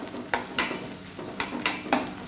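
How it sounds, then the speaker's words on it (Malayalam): Ginger, garlic and green chillies sauté on medium flame for lemon pickle, a soft fry sound under four or five distinct scraping spatula strokes against the pan, close and alone. "ഒന്ന് വഴറ്റിയെടുക്കേണ്ടതായിട്ടുണ്ട്. ഇഞ്ചിയുടെയും വെളുത്തുള്ളിയുടെയും മുളകിൻ്റെയൊക്കെ പച്ച ചുവ മാറുന്നതിന് വേണ്ടിയിട്ട്"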